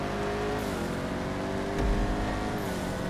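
A car in a GTA 5 land race, flat-out at full throttle after brushing a wall, engine droning steadily with a brief louder thump partway through, continuous and moderately loud with no talk.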